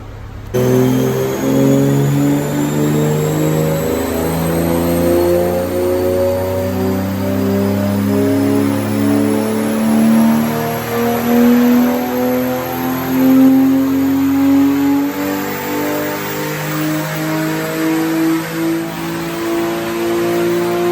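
A Porsche 986 Boxster S engine with a modified air intake revs repeatedly on a dyno, rising through the gears with loud, sustained climbing pitch and brief drops between pulls.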